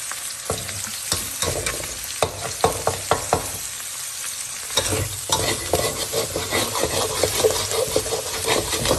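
Steady sizzling of instant noodles stir-frying in a lightly oiled wok, with repeated scraping and stirring strokes throughout, close and fairly loud, no voices.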